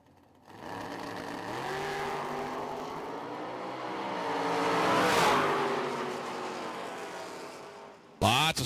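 A drag-strip car launches and roars off at a drag racing event, its engine climbing through gears and building to a loud peak before fading as it heads down the strip, with a sharp burst at the end.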